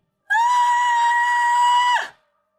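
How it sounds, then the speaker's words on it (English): A woman lets out one loud, sustained scream lasting nearly two seconds, steady and piercing before dropping off abruptly into silence. "breaks the silence with a scream"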